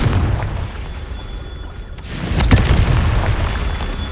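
A Confringo blasting spell in Hogwarts Legacy bursts with a deep, rumbling boom, a muffled low explosion that dips briefly then swells again with a sharper crack near the middle, fairly loud and close.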